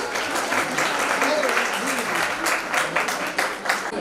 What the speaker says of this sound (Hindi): जोरदार तालियां बजा दीजिए।